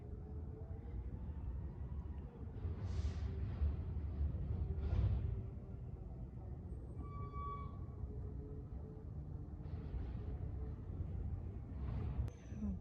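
A garbage truck's engine rumbles steadily in the background, with a brief high mechanical squeal partway through and faint hisses, somewhat distant.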